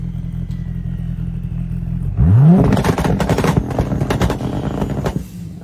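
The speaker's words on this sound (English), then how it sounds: "That sounds so good. I think Dodge Vipers are so cool." Dodge Viper engine in a video game: a low idle hum suddenly rises into a loud, sweeping rev, then breaks into a rough, crackling, clattering roar that fades near the end.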